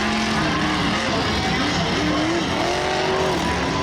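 Roaring monster truck engine on a dirt track at a Charlotte event, loud and continuous with revving pitch swells, heavy crowd and arena noise around it.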